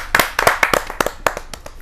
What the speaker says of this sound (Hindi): ताली बरसाएं